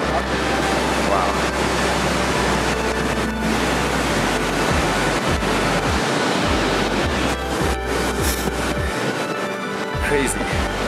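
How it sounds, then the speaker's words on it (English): A roaring Yosemite waterfall fills the air with a loud, steady rush of falling water and wind buffeting the microphone, and a person's voice is heard faintly over the roar. "Now this is what I'm talking about for a waterfall."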